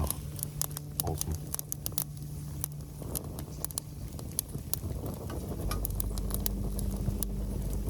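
Rain begins falling at an outdoor camp, a scattered patter of drops ticking on nearby surfaces that thickens steadily, with a low hum underneath.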